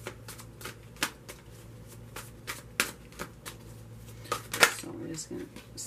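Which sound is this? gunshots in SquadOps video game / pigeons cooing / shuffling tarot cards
shuffling tarot cards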